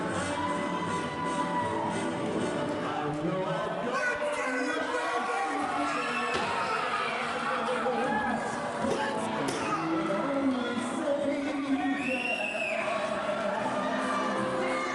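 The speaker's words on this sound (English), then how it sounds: "there's their music and the crowd explodes" Loud crowd noise at a wrestling event as the wrestlers' entrance music plays: continuous cheering, shouts and chatter layered with music for the whole stretch, with voices mixed in.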